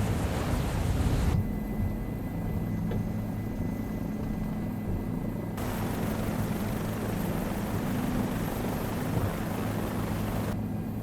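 Bell 407 helicopter landing on a helipad in Microsoft Flight Simulator, a steady loud rotor and turbine drone with rhythmic blade chop and rotor wash noise, unbroken and without talk.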